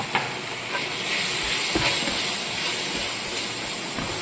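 Tomatoes sautéing in a pan with Kashmiri chili powder for a chicken dish, giving a steady close sizzle and hiss with faint stirring scrapes, no talk.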